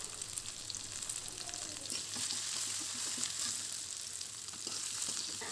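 Fish curry with coriander and cumin powder sizzling and frying in a pan while being stirred: a steady hiss of hot oil with soft scraping, close and continuous, with no talking.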